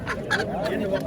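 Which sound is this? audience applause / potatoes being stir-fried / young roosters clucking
young roosters clucking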